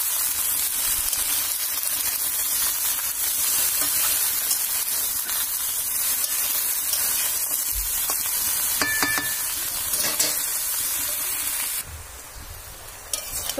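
Vegetables including raw plantain stir-fried in a pan with turmeric and salt, a steady loud sizzle running throughout with a few scraping stirs, easing slightly near the end; no talking.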